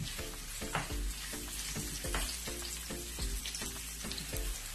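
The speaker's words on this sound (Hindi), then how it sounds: "जब ऑयल गर्म हो जाए इसमें अनियन डाल रही हूँ, एक स्लाइस में कटी हुई। इसको मैं लाइट गोल्डन फ्राई कर रही हूँ।" Sliced onions frying in hot oil for bhuna gosht give a steady, close sizzle, with a soft stirring scrape every second or so and no voices.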